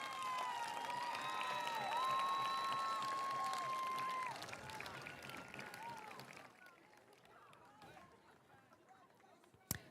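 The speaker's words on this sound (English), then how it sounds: "Students, give your parents and guardians and families a round of applause" A graduation ceremony crowd at a high school breaks into applause and cheering, with bright whoops and tonal shouts over the clapping at first, then thinning to softer scattered clapping and murmur before a sharp knock at the end.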